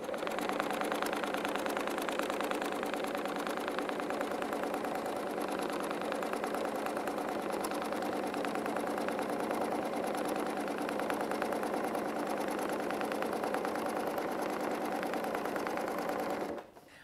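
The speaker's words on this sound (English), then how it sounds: "start by quilting that same basic feather" Steady, continuous whir of a sewing machine stitching a basic quilted feather, loud and close, running at an even pace for about sixteen seconds before stopping abruptly.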